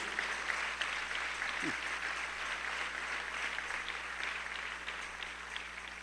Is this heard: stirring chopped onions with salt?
no